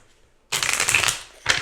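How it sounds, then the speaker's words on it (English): Angel cards shuffled by hand, a dense riffling burst lasting about half a second followed by a shorter second riffle, close and clear with no talking. "Let me shuffle a little bit more here."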